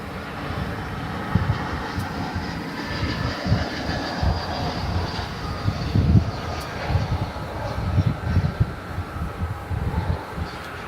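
An American Airlines passenger jet arrives at DFW Airport at night, its engines a steady distant roar with a low rumble that swells and fades in pulses.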